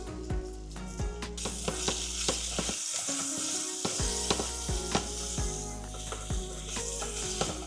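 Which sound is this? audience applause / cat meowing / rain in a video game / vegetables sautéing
vegetables sautéing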